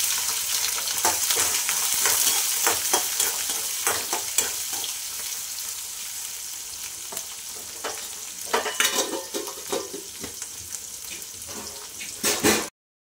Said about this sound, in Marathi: शेंगदाणे चांगले भाजले की लगेच मिरची टाकते